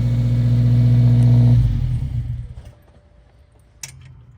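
A Subaru Legacy with a Nameless axle-back muffler revs loudly in a deep, buzzy drone, then the engine falls back and settles to a quieter rumble, with a sharp clack near the end.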